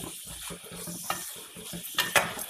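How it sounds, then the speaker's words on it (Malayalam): Ivy gourd with ginger, onion, green chilli, curry leaves, tomato and kokum sautéed in coconut oil for a kovakka curry; soft sizzling under repeated spoon scrapes against the pan, close and steady, with a few sharper clinks near the end. "ഇതിൽ തന്നെ നമുക്ക് കോവയ്ക്ക് ഇടാം കേട്ടോ അപ്പോൾ ഇത്രയുണ്ട് ഈ വെളിച്ചെണ്ണയിൽ ഇവ എല്ലാം കൂടി ഒന്ന് വഴറ്റിയെടുക്കാം"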